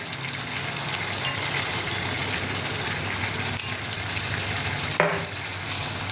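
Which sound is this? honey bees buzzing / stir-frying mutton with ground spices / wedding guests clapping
stir-frying mutton with ground spices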